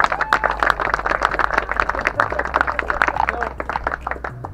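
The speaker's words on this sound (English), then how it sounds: "I just helped, so round of applause." Audience clapping after a thank-you at an electric vehicle show in Portsmouth, a steady patter of many hands with some speech mixed in.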